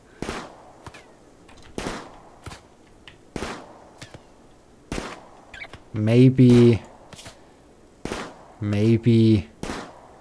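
Sharp, sparse gunshots from colonists hunting in RimWorld, single dry cracks spaced a second or so apart, mixed with a voice speaking over them in short bursts.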